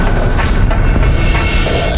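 Propane tanks of a hot-air balloon ignited by 7,200-volt power lines erupt in a heavy, loud booming blast with a rumbling roar that fills the whole moment.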